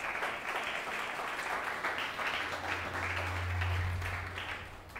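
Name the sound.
congregation applause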